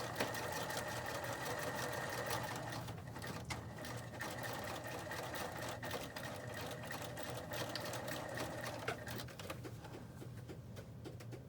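A sewing machine stitches a wire casing along the edge of a face mask, running in a fast steady chatter of needle strokes that stays close and continuous throughout, with no talking.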